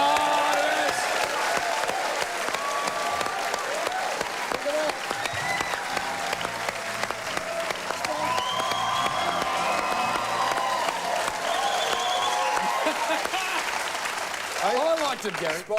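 A studio audience at the AFL Footy Show claps and cheers in a sustained wave of applause with whoops, with people talking over it throughout.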